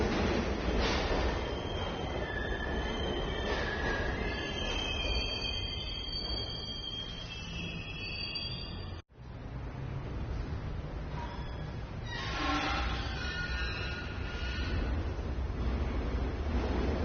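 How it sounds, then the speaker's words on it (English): A derelict metro car lurches into motion in the video game ICEY, a continuous rumbling rail roar with scattered metallic screeches, briefly dropping out near the middle before resuming. "The metro begins to move, and ICEY is hurled towards her destiny"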